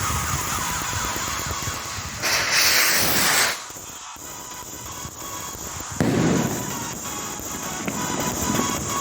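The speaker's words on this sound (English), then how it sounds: "here's a few fireworks that I've had over the past few years that I think you'll agree are quite good quality indeed" Fireworks, including a Brazil-style shell, going off in bursts: a loud crackling hiss for over a second, a quieter stretch, then another bright crackling burst that lingers, with no voices.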